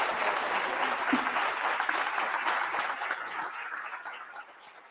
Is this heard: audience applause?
yes